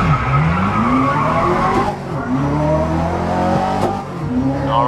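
Race cars in Grid 2019 rev hard and skid with squealing tires, loud and continuous, engine pitch sweeping up and down through gear changes.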